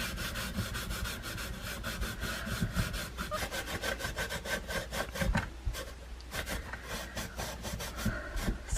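Wood stain being rubbed by hand onto a wooden Christmas craft project, a continuous close scrubbing and rubbing texture with rhythmic strokes and no voices.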